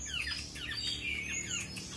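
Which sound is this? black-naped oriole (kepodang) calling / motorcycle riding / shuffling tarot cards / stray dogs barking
black-naped oriole (kepodang) calling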